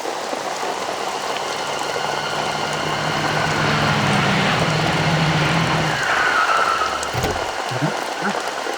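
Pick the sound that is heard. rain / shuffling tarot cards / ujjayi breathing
rain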